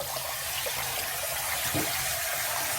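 Water trickling and draining steadily from washed glutinous rice, a soft continuous wet rush with a faint thump partway through.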